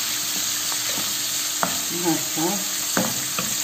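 Meat sizzles in hot ghee in a pan, seasoned with salt for a sweet dish, with a steady frying hiss and occasional stirring scrapes; someone speaks briefly.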